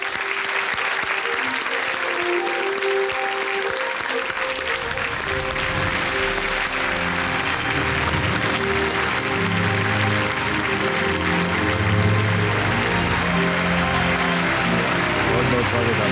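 Sustained audience applause on a TV quiz show set welcoming two doctors, Brij Mohan and Madhuri Bhardwaj, steady and loud throughout with music and crowd noise swelling underneath.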